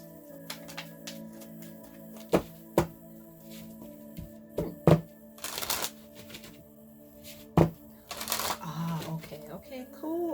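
Tarot cards are shuffled and drawn for a reading: soft papery riffles, sharp card snaps and flicks arrive in irregular bursts, close and crisp.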